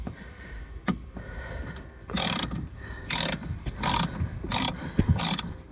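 A wrench works a bolt on a parking sensor of an Audi A4 B8 Allroad, giving five bursts of quick ratcheting clicks in a steady rhythm, close and clear after a quiet start with one knock.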